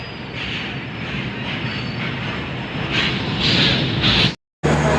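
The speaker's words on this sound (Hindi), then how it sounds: "ये देखो एक ट्रेन तो अराइव डिपार्ट हो ही रही है" A goods train rolls through Ambala Cantt station at night, its wagons rumbling and clattering loudly and continuously with faint wheel squeal, close by and unaccompanied by talk.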